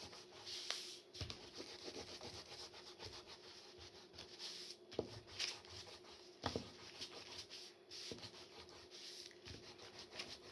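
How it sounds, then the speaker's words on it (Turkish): Eraser rubbing out pencil guide lines on a mandala drawing on paper, a steady close scratchy rubbing in short repeated strokes with brief pauses, no talking. "mandalımızın içindeki görünmez çizgilerimizi silmeye başlıyoruz"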